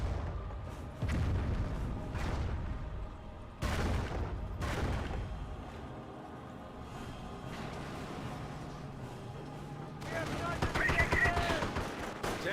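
Artillery barrage in Company of Heroes 1, with repeated heavy booms and bursts of gunfire at irregular intervals, loud and close, under ongoing battle noise.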